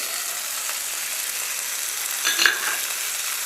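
Horse gram chutney ingredients, tomato among them, sauté together in a pan with a steady, soft sizzle and faint stirring scrapes, one brief louder clatter near the end, no voices.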